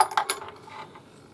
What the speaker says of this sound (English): Sorted out a couple of bolts, a couple of big washers,